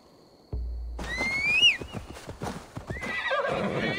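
In Assassin's Creed Valhalla, a horse lets out a loud, high whinny as its hooves clip-clop rhythmically and close by, the trotting continuing after the neigh fades, with no voices.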